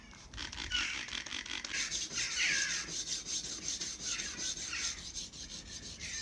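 Kitchen knife being sharpened on a coarse diamond stone, harsh rhythmic rasping strokes scraping back and forth in a steady repeating pattern, close and alone.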